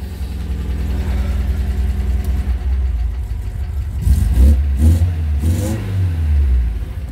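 A 1972 MGB classic car engine idles with a low, even drone, then revs several times in quick succession, rising and falling loudly and close by.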